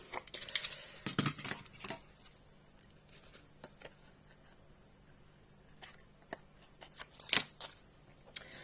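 Scissors snip and round the edge of card stock for a handmade greeting card, giving scattered short clicks and crisp cuts at irregular intervals over a quiet background.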